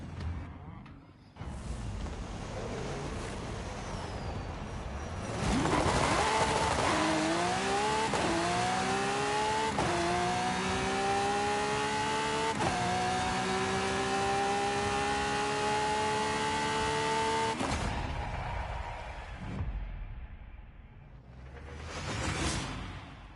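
A car engine in Forza Horizon 5 revs hard and climbs through several upshifts, each gear rising in pitch before a brief dip. The engine is loud and continuous, then cuts off near the end.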